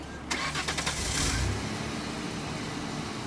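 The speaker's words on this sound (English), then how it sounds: "If you have too little gas, your car's just going to stall right on the spot" A manual car's engine cranks and catches with a brief rattling burst, then drops into a low rumbling hum that continues steadily, with no talk over it.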